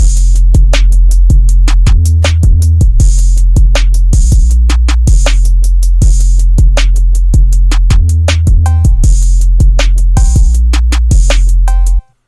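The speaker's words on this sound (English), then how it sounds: "All the drums together sound like this" A loud programmed drum loop pounds steadily, with heavy kicks, snappy snares and busy hi-hats repeating in a tight pattern before stopping abruptly.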